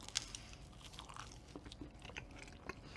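Crunchy bites into Pizza Hut pizza with a cheese-filled crust, pepperoni or bacon potato, giving several close, crisp crackles and soft chewing over a quiet room, with no talk.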